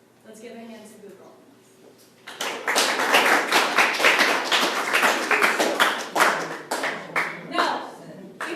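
Audience at a Google Apps presentation bursting into applause after a short stretch of talk, a loud burst of clapping that gradually thins out over several seconds.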